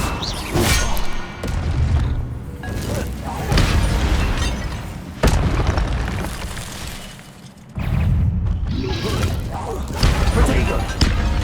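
Incendio fire spells cast in the video game Hogwarts Legacy, producing repeated loud whooshing bursts, crashes and thuds amid combat noise, with someone speaking between the blasts.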